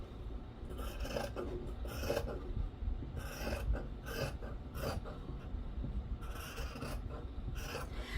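Scissors cutting the selvages off kilt fabric: repeated rasping snips and rough rubbing strokes through cloth in an uneven rhythm, close and fairly quiet, with no talking.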